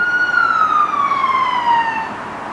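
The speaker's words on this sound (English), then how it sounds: "We have sirens happening in the background here, Gemini, okay?" A siren wails steadily with a slowly falling pitch, loud and continuous over a background of traffic noise.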